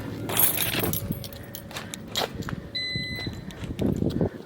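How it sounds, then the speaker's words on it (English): A set of car keys for a 2018 Honda CR-V jingles close by in bright metallic bursts, several jangles scattered across the moment with a faint electronic beep tone in the middle. "Actually, I have my keys on me now."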